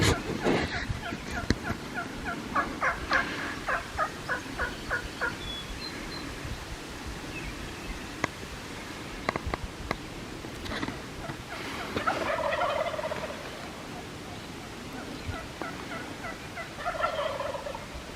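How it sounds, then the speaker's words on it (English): Wild turkeys on the roost, gobblers sounding off in repeated rattling bursts while hens and jakes yelp in short series, several birds at moderate distance with faint rustling between calls. "The males are up there gobbling. The females are, they're up there yelping."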